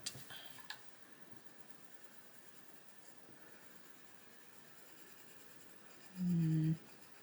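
Faint, soft scratching of a white Prismacolor coloured pencil on paper, a quiet continuous rubbing close by, followed near the end by a brief low electronic tone.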